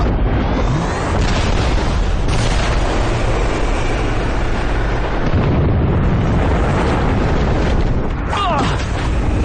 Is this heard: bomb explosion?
yes